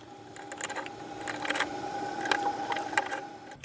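A small screwdriver works screws out of the metal cover inside a PSP 1000 handheld console, making close, faint clicks, ticks and light metallic scrapes in uneven bursts, with no voice.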